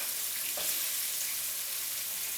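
Meatballs frying in a pan on the stove, a steady broadband sizzle at low-moderate level with a faint brief clink near the start, no voices.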